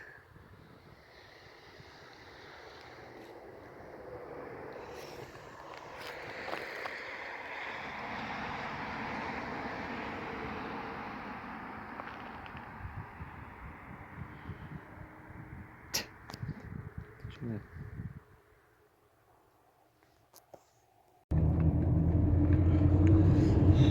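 A car drives along a road in Kyrgyzstan on the way from Bishkek to Jalal-Abad near Tash-Kumyr, with a steady broad rumble of road and wind noise. The noise drops briefly to near-quiet, then returns louder and heavier.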